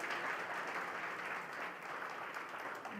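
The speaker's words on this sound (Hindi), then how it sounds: "जोर से ताली बजा सकते हो।" A church congregation applauds during a revival sermon, a steady, even clapping that holds for about three seconds at moderate distance and fairly low level.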